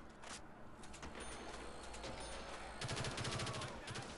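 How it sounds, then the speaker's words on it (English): A Stoner 63 light machine gun fires in a video game, quiet rapid bursts of low-toned shots, the densest burst coming toward the end over steady background noise. "And the Stoner 63 is a good gun. And like the sound of the firing sound is really cool too."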